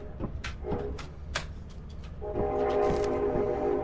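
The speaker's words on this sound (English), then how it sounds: "God, I do not miss those trains." A train rumbles past in a video game, with short sharp sounds early on giving way to a loud sustained horn blast and rolling noise that fills the second half.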